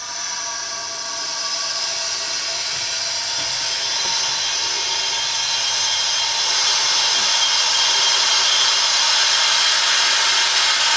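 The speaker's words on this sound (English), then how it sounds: "Just undo this valve, let the vacuum out." Air hissing steadily into a resin-filled vacuum chamber as its valve is opened while stabilising a deer antler, a loud close high-pitched rush that grows slightly stronger over about eleven seconds.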